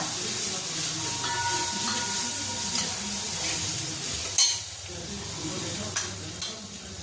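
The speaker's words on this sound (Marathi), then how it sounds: "आजीने पुन्हा थोडी तेला हळद टाकली" Turmeric dropped into the hot-oil tempering for dal sizzles steadily up close, broken by a few sharp clinks of a utensil against the pan.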